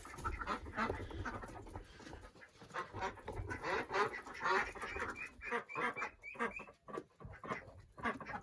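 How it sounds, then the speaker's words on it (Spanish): Many ducks quacking repeatedly at close range on a farm as they are herded toward an automatic coop door for hens and ducks, a busy continuous chorus of overlapping calls with no talk. "Con todos los patos."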